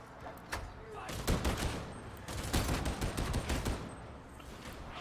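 Gunfire in the video game Warhammer 40K: Darktide, where an Ogryn fires rapid, dense bursts of shots in a close, rattling fusillade that continues for several seconds with talk mixed in.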